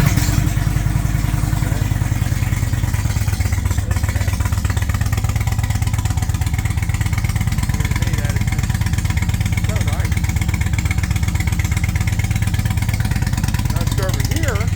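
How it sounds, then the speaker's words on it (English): An Indian motorcycle with a muffler slip-on exhaust and stock head pipe idles loudly and close by, its engine keeping up a steady, even, throaty loping rumble from start to finish. "Now, this is just a muffler slip-on exhaust. I didn't do a head pipe on this motorcycle."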